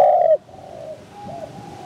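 A dove coos softly nearby, a low warbling call followed by quieter repeated coos against a calm background.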